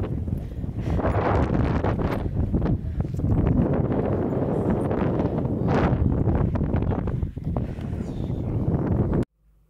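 Strong wind on the sand dunes at Great Sand Dunes, Colorado, buffets the microphone continuously in loud, roaring gusts before cutting off abruptly near the end.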